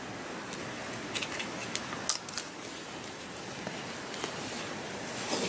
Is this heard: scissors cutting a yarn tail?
yes